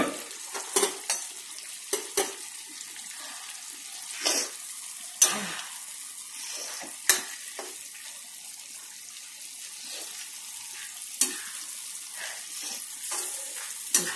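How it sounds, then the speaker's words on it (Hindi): Masala roasting in a pan over a high gas flame sizzles and crackles steadily, with occasional sharp spatters and stirring scrapes, close and alone with no talking. "इसको तेज गैस में पहले भूनते हैं हम लोग थोड़ी देर"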